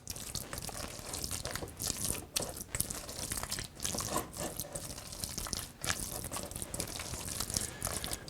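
Pimento cheese spread is worked together in a bowl, producing close, wet squelching and crunchy scraping strokes in an irregular rhythm, continuous and alone without any talking.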